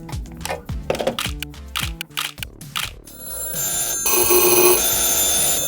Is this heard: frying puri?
no